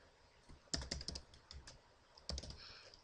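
Quick bursts of computer-keyboard typing, a cluster of rapid clicking keystrokes, a short pause, then another brief flurry, close and fairly quiet with no talking.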